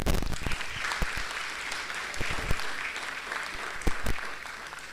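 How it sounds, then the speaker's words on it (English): Audience applause at the inauguration of the T20 World Cup Cricket for the Blind conclave, a dense, steady round of clapping with sharper individual claps standing out, alone without talk. "I would like to extend very warm welcome to everybody who are here with a huge round of applause"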